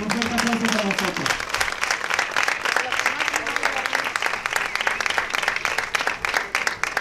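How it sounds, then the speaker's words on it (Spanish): Crowd applause at a religious offering ceremony to Our Lady of the Sea in Isla Cristina, loud dense clapping that swells in after a short stretch of tonal voice or music and runs on continuously. "Un fuerte aplauso para nosotros."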